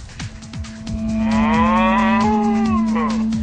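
Murrah and Thai buffalo low on a farm in a loud, close, drawn-out call that rises and falls over a steady droning hum, with scattered thumps and farmyard noise beneath and no voices.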